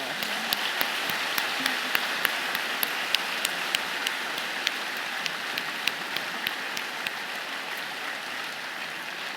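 An audience at a Toronto Tech Week AI talk gives a sustained round of applause, a dense, even patter of many hands with a few louder, sharper claps standing out, steady from start to finish.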